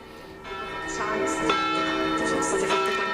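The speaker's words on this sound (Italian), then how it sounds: "In sottofondo abbiamo le campane, risuonano da qualche minuto dopo mezzogiorno" Church bells in Italy ring steadily just after midday at a moderate distance, their tolling overlapping in a continuous resonant peal with no talking.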